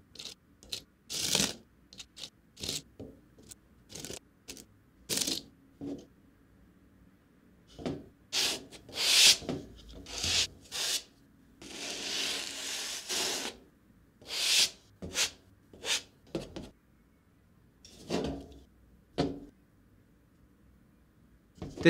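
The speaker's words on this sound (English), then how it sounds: "Scrape it around so you fill all of the caps back up to the top." Dry powder scraped and rubbed across the plate of a manual mica capsule filling machine, a run of short rasping strokes with one longer sustained scrape midway, close and fairly quiet, no talk.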